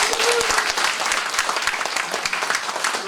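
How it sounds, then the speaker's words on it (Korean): Lecture audience applauding at a Korean talk on becoming a star instructor, steady dense clapping from a roomful of people throughout, fairly close and even in level. "박수합니다."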